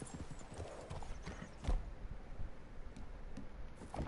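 Horse hooves clip-clop in a steady rhythm in the video game Red Dead Redemption 2, moderately close and continuous, with a faint whinny among the footfalls.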